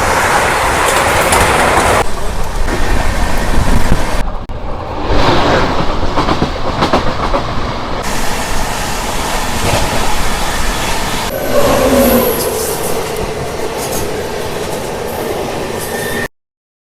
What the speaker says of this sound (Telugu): Guntur intercity super fast express అయితే మనం అయితే ట్రావెల్ అయితే చేస్తున్నాము